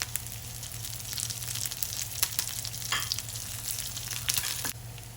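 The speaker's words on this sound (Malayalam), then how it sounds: "നമുക്ക് അതിനകത്തൊരു ചെറിയ ഉള്ളി ചേർത്ത് കൊടുക്കാവേ." Shallots and curry leaves fry in hot oil for a spicy fish curry, a steady close sizzle with occasional crackles and stirring scrapes.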